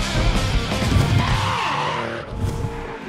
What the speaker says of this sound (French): première battle entre Romain Soukas, leader avec la BMW grise, suivi par Jérôme Maignan sur la noire